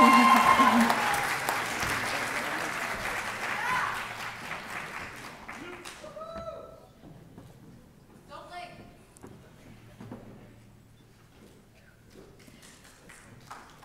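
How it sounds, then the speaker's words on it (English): Audience at an engineering school diploma ceremony claps in rhythmic patterns, loud at first and then fading to scattered, sparse claps with a few bright tonal blips. "they're clapping patterns right"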